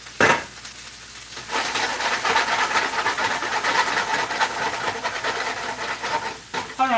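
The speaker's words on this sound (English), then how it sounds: "So I'm going to take my mushrooms and I'm going to put them in the pan" Mushrooms hit a hot pan with a sudden burst, then keep up a steady, close crackling sizzle and hiss for several seconds, with a clatter near the end.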